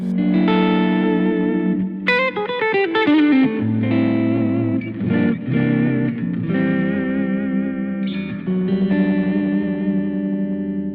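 An electric guitar plays sustained chords and melodic runs with a full, warm clean tone through a Yamaha THR modelling amp, with a touch of chorus and reverb, loud and close.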